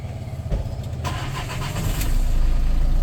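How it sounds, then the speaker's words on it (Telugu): A 2012 Volkswagen Vento diesel engine with 120,000 km cranks and catches, then settles into a steady, rising idle with a gruff diesel rumble, close by. "ఇంజన్ స్టార్ట్ అయిందండి."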